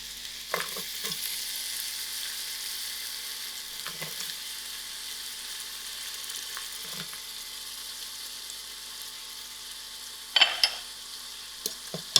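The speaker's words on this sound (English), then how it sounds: "I'm going to put in my half a cup of oil and let it to warm up. I'm going to add in my onions, which is 1 onion that are sliced." One sliced onion frying in half a cup of hot oil, a constant close sizzle with a few soft stirring knocks and a louder burst of sizzling and clatter near the end.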